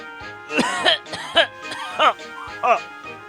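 Several short, harsh coughs come in uneven bursts, close up, with a voice between them that seems to imitate the coughing.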